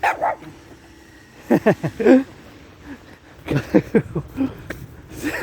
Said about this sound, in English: A little barky bark. It was a friendly bark.